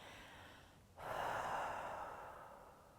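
Steady, fairly close breathing after holding the Goddess yoga pose, quiet at first, then a louder, sustained breathy exhale that swells and slowly fades.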